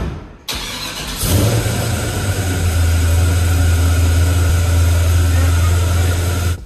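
A Ford Mustang engine cranks over, then catches and settles into a loud, steady throaty rumble that holds close by to the end.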